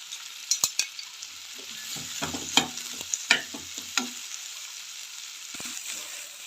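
Onions frying in a pan for white sauce pasta, a steady hiss of oil under sharp spoon taps and scraping strokes that cluster in the first few seconds, then ease into a quieter sizzle.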